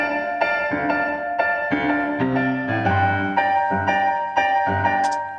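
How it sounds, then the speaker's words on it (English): Music run through distortion and reverb for a dusty 1960s sound: a dense, steady, harmonically rich instrumental bed with regular rhythmic accents, loud and continuous with no voices. "I found one plugin to make it distorted and another to put reverb on it"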